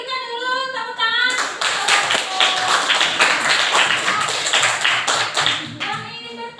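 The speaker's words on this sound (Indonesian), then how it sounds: "Kita berikan dulu tepuk tangan." A classroom full of students claps for a presentation group, dense broadband applause swelling quickly and holding steady for several seconds before tapering, with brief voiced speech at the start and end.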